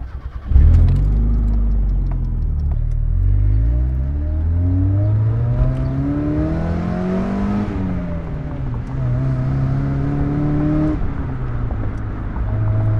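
A Mazda Miata engine with 220,000 miles revs up through the gears, rising in pitch, dropping at each shift and climbing again, heard from inside the car.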